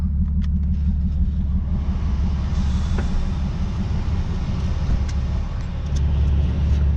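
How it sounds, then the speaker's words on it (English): A car's engine runs smoothly after a misfire repair, a loud, steady low rumble at idle, close and continuous with faint clicks over it and no voices. "The car sounds pretty good right now."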